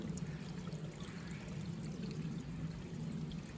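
Spring water running straight out of the ground beside a hiking trail in the Pinhoti area, a steady close trickle and splash that holds even throughout with no voices.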